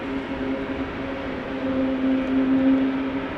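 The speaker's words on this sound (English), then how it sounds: "That's an E2 Embraer 195 with geared turbofan engines spooling up, going to Florence." Geared turbofan engines on an Embraer E195-E2 spool up at a rainy Amsterdam Schiphol Airport, giving a steady distant whine and rumble that swells slightly toward the end, with no talk.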